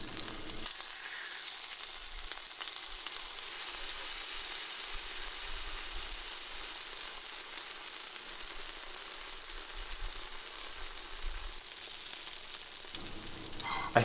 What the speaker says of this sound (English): I'm going to wait to flip it until the edges begin to brown and look a little bit crispy